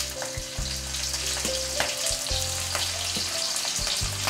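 Green chillies and onion sizzle steadily in hot oil for khichdi, a dense continuous frying hiss with a few soft clinks and stirs near and close, no talking.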